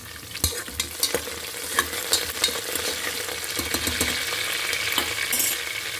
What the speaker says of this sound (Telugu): ఇప్పుడు కుక్కర్లో నూనె వేడైంది కదా, కొంచెం జీలకర్ర, కొంచెం ఆవాలు వేసుకుందాం, కొంచెం కొత్తిమీర, కొంచెం కరివేపాకు.